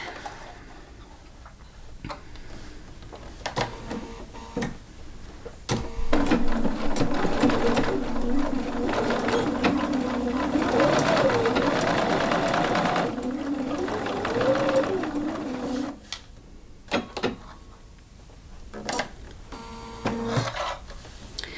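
A sewing machine runs in a steady mechanical whir for several seconds, starting and stopping, with ticking clicks before and after and brief talk around it.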